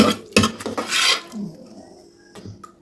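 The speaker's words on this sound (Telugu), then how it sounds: "ఇలా పప్పుని సపరేట్ చేస్తున్నాను" Cooked lentils (dal) are scooped and strained from their cooking water in a pot, giving clattering metal scrapes and knocks of a utensil against the vessel, with a longer rasping stir in the middle, then a few quieter taps.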